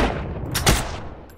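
Gunfire in the video game Heroes and Generals: a short, sharp burst of shots cracking out near the middle, then quickly fading away.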